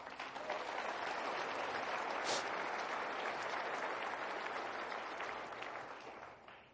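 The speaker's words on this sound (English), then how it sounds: "Go ahead and clap." Applause from a dinner audience, warm and continuous clapping that swells quickly, holds for several seconds and tapers off at the end.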